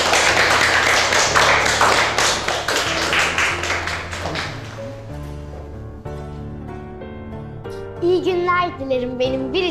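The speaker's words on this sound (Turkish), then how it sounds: "O zaman Aslı'yı kocaman alkışlıyoruz." A class of children claps for their classmate Aslı in a school setting, a burst of many hands tapping quickly over music that carries on underneath and then settles into a calmer melody.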